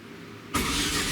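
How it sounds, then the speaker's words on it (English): A freshly built five-cylinder car engine with a turbo cranks over, a sudden loud, dense churning starting halfway through and holding steady to the end after a quieter opening. "So I hear how quickly the car's turning over"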